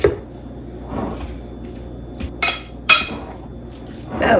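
A big spoon working mayonnaise into potato salad in a bowl, giving a few wet squelching scrapes and two sharper clinks against the dish, close by in an otherwise quiet kitchen.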